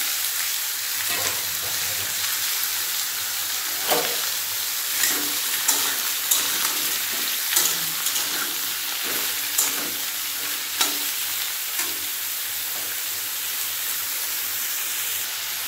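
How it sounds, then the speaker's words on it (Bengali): Nigella seeds, green chilli and chopped bottle gourd sizzling in hot oil for lau posto, a steady dense frying hiss close by, punctuated every second or two by soft stirring scrapes, with no talking. "তেল ভালোভাবে গরম হয়ে গেছে, দিয়ে দেবো কালো জিরে, আর দিয়ে দেবো কাঁচা লঙ্কা। এরপর দিয়ে দেবো কেটে রাখা লাউ।"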